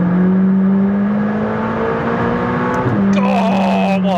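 A McLaren 600LT's engine drones loudly from onboard, holding a steady note, then shifting pitch near the end with a few sharp exhaust crackles.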